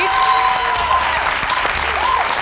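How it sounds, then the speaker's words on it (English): A studio audience at a leadership competition show applauds a contestant with steady, moderately loud clapping, while faint tones and murmurs sit underneath. "Round of applause to leader number 3."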